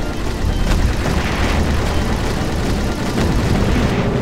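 A loud explosion rumbles in the video game Army Men: RTS, with heavy low booms and sustained blast noise filling the moment.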